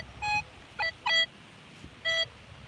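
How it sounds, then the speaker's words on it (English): A handheld metal detector sounds four short electronic beeps in an irregular rhythm, some close together and one after a pause, clear against quiet outdoor background. "Is it just ringing because you're touching something metal?"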